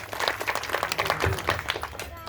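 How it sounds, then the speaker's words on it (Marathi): A short burst of clapping from a small crowd at a devotional discourse gathering, moderately loud and close, with voices mixed in. "टाळ्या जोरदार"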